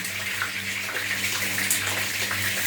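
Hot oil sizzling around chopped capsicum in a pan while cooking, a steady loud hiss and crackle of moisture spitting in the fat, continuous with no voices.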